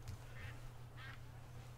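Two short, faint duck quacks from a Duck Dynasty hunting video game sound about half a second apart over a steady low hum.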